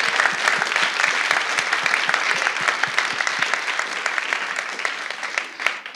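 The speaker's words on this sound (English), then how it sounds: "All right, everybody, give a round of applause to our speakers for tonight." Audience applause for the speakers at an entrepreneur speaker series event, a dense, steady roar of many hands clapping close by for the full stretch with no talk over it.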